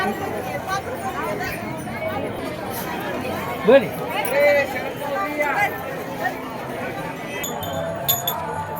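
A busy crowd of pilgrims murmurs and chatters around a temple in Pandharpur, with steady overlapping voices, faint clinks and brief louder calls rising out of the babble.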